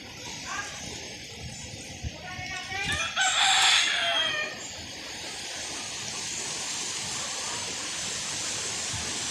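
Pet rooster crowing once, mid-distance and fairly loud, over steady windy outdoor noise, with other chickens around.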